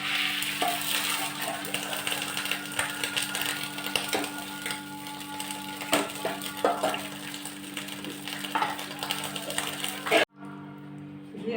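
Steady sizzling of tempering spices and onion frying in hot ghee for kadhi, with occasional stirring scrapes, continuous and close, cutting off abruptly near the end.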